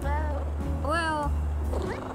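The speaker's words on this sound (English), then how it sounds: "Here's another little kitty." In-game cat meow from Little Kitty, Big City, a short rising-falling feline call around the middle, with background game music and ambient tones throughout.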